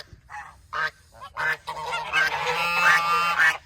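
Geese honk loudly and close by, a few separate calls at first, then a dense overlapping run of honking.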